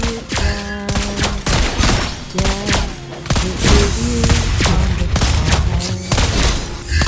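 Lesley's gunfire from the mobile game Mobile Legends rattles out in loud, rapid bursts of sharp shots and booms, separated by brief pauses and tonal effect tails.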